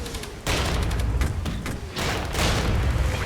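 A tank in Regiments fires at a mortar, giving loud, heavy booms in several bursts with rumbling blasts and crackling battle noise between them, close and dominant throughout.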